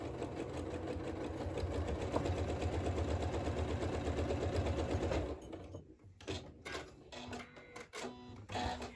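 A sewing machine stitches quilt blocks with a fast, steady, close mechanical rattle for about five seconds, then stops, leaving quieter handling noises and small clicks.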